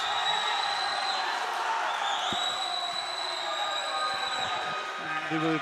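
A crowd at a boys' varsity high school basketball game roars and cheers loudly inside a gym, with shrill whistle-like tones and the squeak of sneakers. Commentary runs over the noise.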